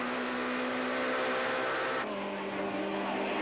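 Onboard engine noise from Dion Joubert's touring race car at Killarney in 1993, a steady loud high-revving drone with a sudden shift in tone partway through, continuous throughout.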